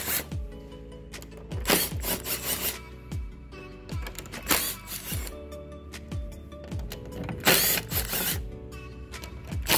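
Someone unscrewing a cover on a 2015 Chevrolet Suburban spoiler with a ratcheting tool, a series of close, sharp clicking bursts in irregular clusters with brief pauses between them.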